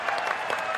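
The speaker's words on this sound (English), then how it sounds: "can we have a round of applause" A brief burst of clapping from a small crowd, quick and steady.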